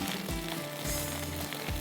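Paratha frying in a hot pan for a desi meal, a steady close sizzle and crackle that holds for the whole short stretch with a low hum underneath and no talk.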